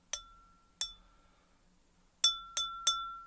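Five sharp taps on an empty drinking glass, each ringing with a clear bright tone that lingers and fades. The first two are spaced apart, the last three come quickly.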